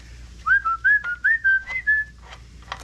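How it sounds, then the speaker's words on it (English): A person whistles a quick melodic phrase of about seven short rising and gliding notes, clear and close, in a garage during drum brake work on a Buick Skylark restoration. "thought I was whistling to him"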